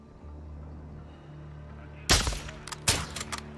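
Gunfire in Call of Duty Modern Warfare 2, a quiet low hum followed by two sharp, loud shots about a second apart, each with a short echoing tail.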